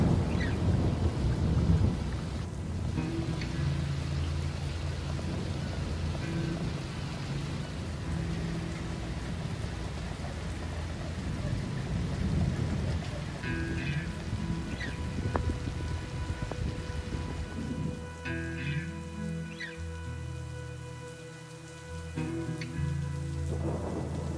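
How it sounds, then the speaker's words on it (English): Heavy rain pours steadily onto surfaces during a thunderstorm aboard a boat moored in Grenada, with deep thunder rolling and rumbling at several points, loudest at the start and again near the end. "guess we still have some thunder"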